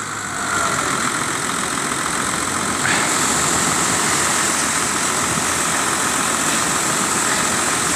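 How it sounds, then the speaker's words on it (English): A tractor and a 200 Suzuki outboard motor launching a boat through surf at St Lucia, a steady loud engine drone running continuously with constant intensity and no talk. "the tractor is roaring, and the 200 Suzuki's is roaring."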